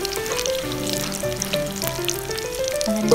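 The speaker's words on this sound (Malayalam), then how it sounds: "ഒരു പാൻ വെച്ച് അതിലേക്ക് എണ്ണ ചൂടായതിന് ശേഷം ഓരോ റോൾസും നമുക്ക് അതിലേക്ക് ഇട്ട് കൊടുക്കാം." Oats beef rolls frying in hot oil in a pan give a dense, steady sizzle and crackle throughout, close and fairly loud, with a continuous tonal hum underneath and no voices.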